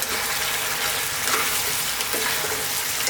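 Penne pasta being stirred into a spicy arrabbiata tomato sauce over heat, giving a steady wet sizzle with soft scraping and sloshing throughout, fairly close and without talk.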